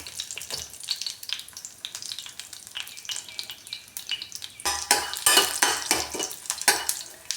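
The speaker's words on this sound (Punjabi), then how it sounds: "ਤੇਲ ਵਿੱਚ ਪਾਵਾਂਗੇ ਰਾਈ ਦੋ ਚਾਰ ਲਾਲ ਮਿਰਚਾਂ ਸਾਬਤ ਲਾਲ ਮਿਰਚਾਂ" Mustard seeds and whole red chillies fry in hot oil in a pan, crackling and popping under a bright hiss, with stirring and utensil scrapes growing louder and busier toward the end.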